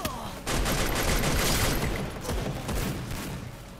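Rapid bursts of M249 machine gun fire in the shooter game Free Fire rattle loudly and continuously, with short pauses between long sustained volleys and dense crackling impacts.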